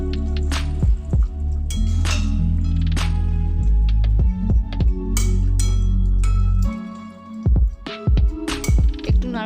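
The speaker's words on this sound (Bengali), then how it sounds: "এবার মাছগুলো দিয়ে দিচ্ছি।" Small chuno fish dropped into a pan of softened, simmering tomatoes, giving wet squishing, sizzling and dripping sounds with a few clinks, close and fairly loud, with a steady low cooking hum underneath.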